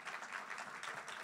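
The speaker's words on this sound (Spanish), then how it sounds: "Dale un aplauso si no entiende" A church congregation applauds, a brief, faint patter of many hands clapping at a distance.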